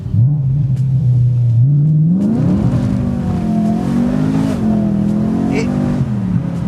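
BMW E90 M3 saloon engine revving hard on a downshift, a loud close rumbling howl that dips briefly then climbs and holds a high rasping pitch, with no talk over it.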